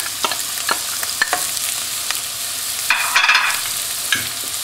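Finely chopped onion fries in hot oil, a continuous close sizzle punctuated by repeated scraping stirs of a utensil against the pan and a brief louder hissing burst.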